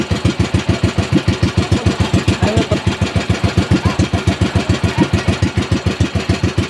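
A fishing boat engine idles loudly nearby, a fast, even chugging pulse that holds steady throughout.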